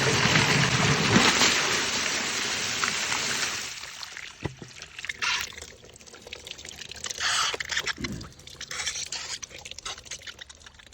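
Irrigation water flows through a maize field on a village farm early in the morning, a steady gushing and trickling that is loud at first and then settles into softer splashing with scattered drips and knocks.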